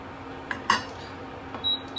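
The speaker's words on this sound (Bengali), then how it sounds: "বন্ধ করে আমি ঢাকনাটা খুলে দিলাম" A metal lid comes off a cooking pot of papaya and pointed gourd curry with a couple of close, bright clinks and a short scrape, then quiet.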